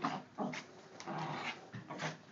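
A dog whimpers and pants in quick, faint bursts, close by and fairly quiet, with no talking over it.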